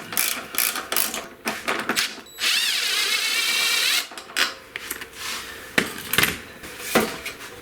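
A power tool, likely an impact driver or ratchet, removes the 15mm silencer nut and 6mm Allen bolt on a BMW R1200GS motorcycle, whirring in short close bursts with one steadier run in the middle, and no talking.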